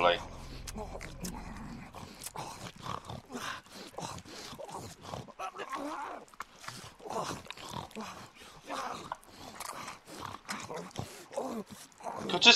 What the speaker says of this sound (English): No, oh, a dog.